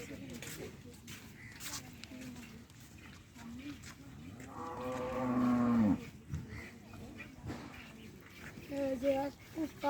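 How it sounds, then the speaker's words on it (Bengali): A cow lows once in a long, close, fairly loud moo midway through, set against ongoing conversation and background noise in a rural setting. "এই যে উস্তাদ গরু মোহন"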